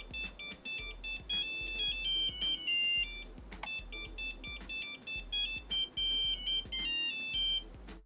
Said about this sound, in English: a buzzer that can be used to grab your attention with an audible tone